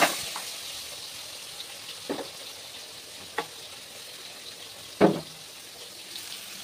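Pangas fish pieces fry in hot oil, giving a soft, continuous sizzle broken by a few sharper pops and spits. The sound is fairly quiet and close, with no talking.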